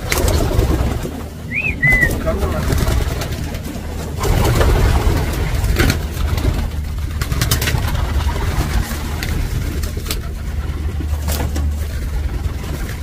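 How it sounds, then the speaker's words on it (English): Pigeons coo in a loft housing a family of blue bar racing pigeons, one clear coo standing out early among faint calls over a steady low hum and background rumble. "Again, I want to stress this is a family of pigeons."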